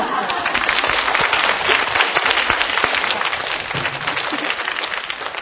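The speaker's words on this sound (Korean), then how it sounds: "네, 박수." An audience claps in a dense, continuous burst of applause that holds steady throughout, with some voices mixed into the clatter of hands.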